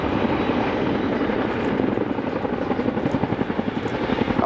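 RAF Boeing Chinook twin-rotor helicopter performing a quick stop at an airshow, a loud, steady rotor roar that turns into a distinct rhythmic blade thump in the last half, close and dominant with no voices.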